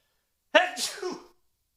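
One close, sharp sneeze from an adult man bursts out of silence, a quick inhale followed by a noisy expulsive burst that trails off within about a second.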